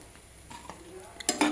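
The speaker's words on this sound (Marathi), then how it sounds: "मस्तपैकी परतून घ्यायचा आहे" Vegetables sautéed in a pan for veg biryani, with a few light scrapes and clinks of a spoon against the pan over a faint sizzle, brief and quiet.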